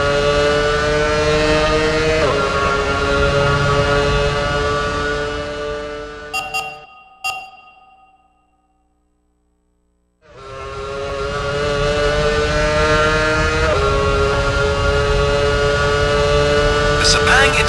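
An F1 Championship Edition video game race car screams at high revs, steps down through its gears, then cuts to near silence before the engine sound returns and holds steady. A commentary voice runs over parts of it.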